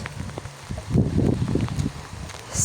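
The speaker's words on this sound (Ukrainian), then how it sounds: "Ось який дощ, чи вам видно, чи не видно, йде дуже добрий" Steady rain falls outdoors on a garden plot in Ukraine, a soft continuous patter with scattered drop impacts close by, heard alone without talk.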